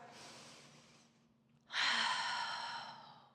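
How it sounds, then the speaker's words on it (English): Deep breathing during a slow yoga flow: a soft, airy exhale fades out, then after a short pause a strong, full inhale or sigh rises close to the mic and holds steadily to the end, with no talking. "Breathe in, breathe out. 2 more breaths"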